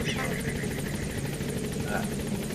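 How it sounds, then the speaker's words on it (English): A support helicopter in the video game Metal Gear Solid 5 arrives, its steady rotor thrum and engine drone filling the scene continuously, fairly close, with a voice speaking over it. "Support helicopter has arrived."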